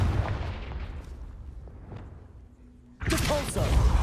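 A Confringo fire spell in the video game Hogwarts Legacy bursts with a sudden loud blast after a few seconds of quiet, low background rumble and faint taps.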